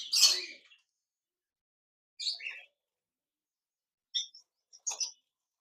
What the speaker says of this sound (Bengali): এক জোড়া ডায়মন্ড ডাব ঘুঘু পাখি রয়েছে